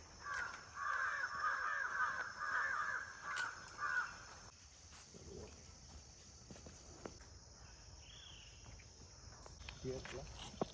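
Crows caw repeatedly in a harsh run at the start, then the scene falls quiet apart from faint rustling and occasional distant calls.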